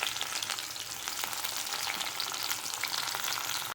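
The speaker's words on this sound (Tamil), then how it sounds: "இப்போ இதில் இந்த ஆனியனை கொஞ்சம் போட்டுக்குவோம்." Chopped onion and tomato fry in hot oil in a home kitchen pan for semiya kichadi, giving a loud, dense, steady sizzle that runs unbroken for a few seconds before stopping abruptly. No one speaks.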